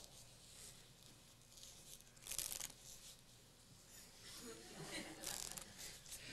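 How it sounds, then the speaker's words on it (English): A magician shuffles a deck of playing cards during a stage magic show, with soft papery riffles and two louder fluttering bursts close by against faint room noise. "I'm going to ask you to watch me narrowly as I shuffle the cards."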